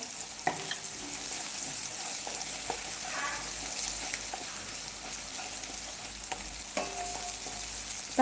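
Tomatoes fry and soften in a pan with a steady, gentle sizzle, broken by a few sharp clinks and stirring scrapes from a utensil, close up.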